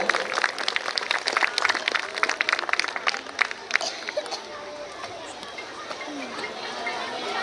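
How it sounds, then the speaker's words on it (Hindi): Audience clapping at a school annual day event honors a guest, crisp claps strongest at first then thinning out as crowd chatter and background murmur carry on underneath. "कृपया हिमाचल साहू जी के लिए जोरदार तालियां हो जाए।"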